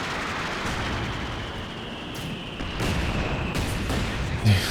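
Heavy artillery fire in the Company of Heroes 2 real-time strategy game, a dense rumbling barrage with several distinct booming impacts layered over continuous battle noise.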